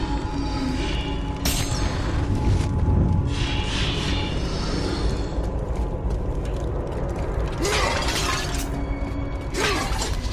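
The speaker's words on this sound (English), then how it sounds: "He won't be too broken about me smashing some flowers in his temple." Flowers shattering in Helios's temple in God of War: Chains of Olympus, bursts of crunching, breaking debris over a dense rumbling game soundscape with clanking mechanisms.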